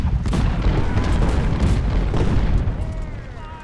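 Cannon artillery booms in the Civil War strategy game Ultimate General: Civil War, with dense overlapping blasts and rumbling battle noise that fade slightly toward the end.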